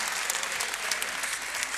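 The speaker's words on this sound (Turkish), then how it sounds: "Hepiniz Alkışlarınıza teşekkür ediyorum." Studio audience applause at a Turkish music and entertainment show, a steady dense wash of many hands clapping close and loud throughout, with no talk over it.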